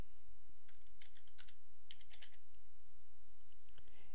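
Rapid computer keyboard typing while editing row labels in Google Forms, a close run of light key clicks in short bursts with brief pauses.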